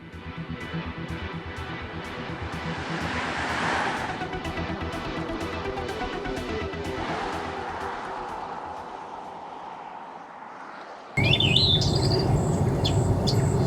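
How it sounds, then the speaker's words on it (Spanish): Forest nature sounds of crickets and birds play through the sound system of a 2023 Hyundai IONIQ 6 electric car while it drives, with repeated chirps over a steady road hum and a louder, brighter birdsong passage at the end. "le puedes poner sonidos de naturaleza. Aquí voy con grillos, pajaritos."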